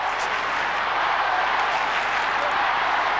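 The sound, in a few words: football crowd cheering and applauding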